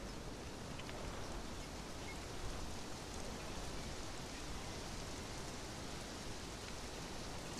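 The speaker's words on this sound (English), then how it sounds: "It's raining!" Rain falls steadily in an even, dense hiss of drops on surfaces, close and unchanging for the whole stretch, with no voices.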